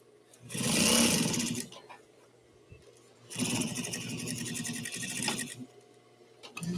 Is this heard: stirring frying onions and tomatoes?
no